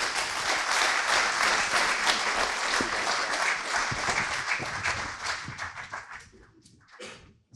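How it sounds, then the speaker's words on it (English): An audience at a FinTech conference session in Newcastle gives a round of applause, loud and dense for several seconds, then thinning into a few scattered claps before stopping. "Can we have a big round of applause for Mark and Keith,"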